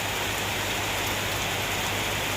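Steady, dense rain falls outdoors as a continuous loud hiss of drops with no breaks and no voices.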